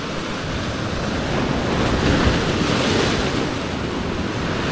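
Big sea waves surging and breaking near a rocky fishing spot, a dense continuous wash with wind buffeting the microphone, swelling slightly toward the middle; no one speaks.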